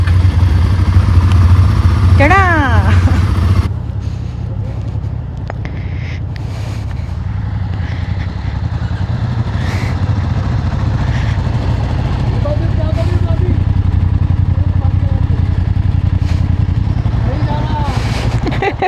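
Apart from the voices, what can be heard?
motorcycle starting and idling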